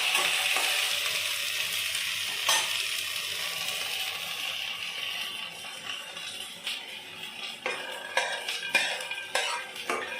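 Badi lentil dumplings frying in hot oil give a continuous close sizzle, while a utensil stirs and scrapes against the pan in irregular clinks and knocks.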